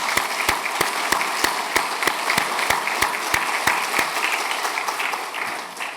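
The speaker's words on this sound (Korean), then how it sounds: "우리가 박수로 좀 축하 같이 했으면 좋겠습니다." A church congregation applauding together during a Sunday service, a dense steady wash of many hands with a few sharp louder claps standing out at regular intervals, continuing evenly before thinning at the end.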